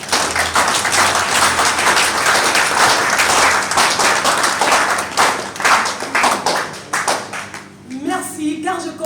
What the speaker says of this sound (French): je constate que vous n'êtes pas avare en applaudissements